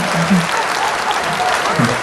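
Crowd applauding at an outdoor Korean trot concert at a local promotional festival, a short burst of steady, loud clapping with faint voices mixed in.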